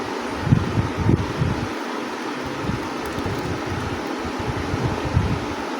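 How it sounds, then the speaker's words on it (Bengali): A mixer grinder spins cooled milk in its jar for malai kulfi, giving a loud, steady, rushing whir with low rumbling flutter throughout and no voices. "এটাকে একবার মেশিনে দিয়ে ঘুরিয়ে নিচ্ছি।"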